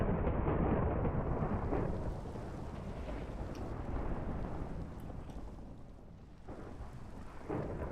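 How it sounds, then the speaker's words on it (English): Thunder rolls through a stormy alien landscape in the survival game Forever Stranded, a loud, deep rumble that gradually fades with further low crackling swells and a rain-like wash underneath, without any speech. "Oh my god, the lightning!"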